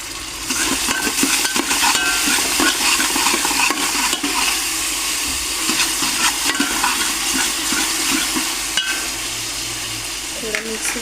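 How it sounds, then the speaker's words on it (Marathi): Tomatoes frying with onions in a pan give a steady close sizzle with stirring scrapes, some chopped potato soon to follow in a quick rice dish. "त्याच्यात टमाटे टाकून घ्यायचं म्हणजे कांद्यासोबत थोडंसं फ्राय होऊन निघते."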